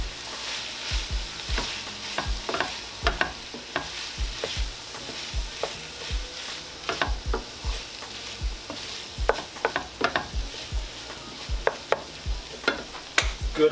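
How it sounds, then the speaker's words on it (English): Tomato paste being stirred in a hot pan, a low steady sizzle under frequent scraping and tapping strokes of a utensil against the pan, irregular and close. "Just want to stir our tomato paste around in here"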